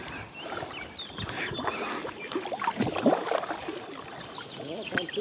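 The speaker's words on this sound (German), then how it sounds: "Der Karl natürlich mit seinem schnittigen Boot" A boat moves upstream on a river, with close splashing and sloshing water under steady wind-like noise, a few irregular dips and swirls, and faint birds in the background.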